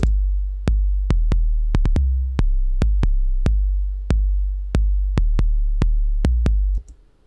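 Loud, booming sub-bass hits with sharp clicky attacks, struck over and over in an uneven beat pattern, each note sustaining and decaying before the next.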